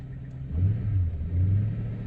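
An SN95 Ford Mustang with a manual transmission runs nearby, a deep low rumble that surges in two brief revs over its steady idle.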